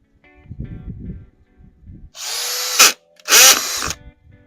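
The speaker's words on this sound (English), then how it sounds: "Look how quick it drills" A Dewalt DCD805B 20V Max hammer drill whines at its fast speed setting in two loud bursts, the first about 0.7 seconds long and the second a little longer, with a brief gap between them, following quieter handling and low rumbles.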